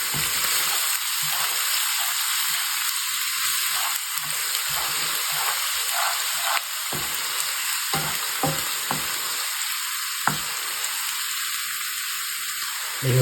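Ginger frying in a pan for Kerala-style mutton curry, a steady close sizzle broken by repeated scraping stirs of a spoon against the pan in irregular bursts.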